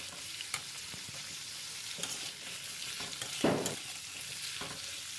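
Fish and potatoes fry in a pan for a mustard-based fish curry, giving a steady, close hiss with occasional brief pops and spatula scrapes and no talk.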